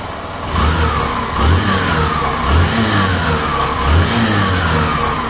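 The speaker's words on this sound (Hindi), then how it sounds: "आपको मैं इस बाइक का एक बार एग्जॉस्ट नोट सुना देता हूँ" A Hero Passion Pro Xtec 2022 motorcycle engine revs repeatedly, the exhaust note rising and falling in smooth rhythmic pulses over a steady idle, close and fairly loud.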